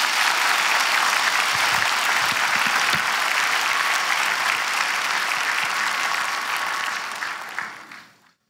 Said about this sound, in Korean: 큰 격려 박수 한번 해주세요.